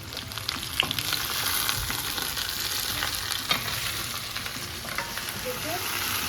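Okra frying in oil in a pan while it turns lightly golden, a continuous close sizzle with scattered pops and stirring clicks throughout.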